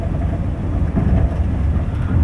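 A JR Twilight Express train running between Kanazawa and Toyama, heard from inside as a steady, loud low rumble of wheels and carriage noise with no talk.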